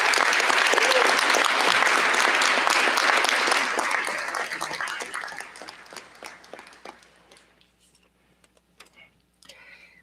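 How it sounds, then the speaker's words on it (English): Commencement audience at a university physics department ceremony giving a loud round of applause that fills the hall, then gradually fades out into a few scattered claps. "I think all of us, we owe you another round of applause."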